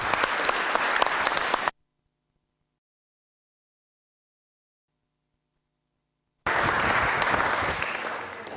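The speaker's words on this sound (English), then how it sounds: "Can we give him a round of applause?" Audience applause at a 2024 general election hustings in Sidmouth, England: a burst of crowd clapping, a silent gap of several seconds, then clapping resumes and gradually tapers off.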